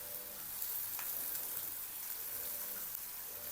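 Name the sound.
potatoes and turmeric sautéing in a pan for poha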